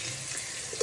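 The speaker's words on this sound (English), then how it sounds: "Now we are going to put some warm water in." Warm water pours into a mixer bowl during sourdough bread making, a steady close hiss and rush of flowing water with no speech.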